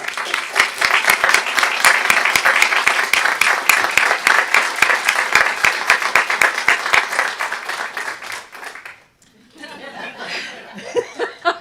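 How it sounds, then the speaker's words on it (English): A full round of applause at a state higher-education commission meeting, steady dense clapping from a room of people with some chuckling and laughter mixed in, fading out near the end. "would love to have a round of applause for Dr. Smith"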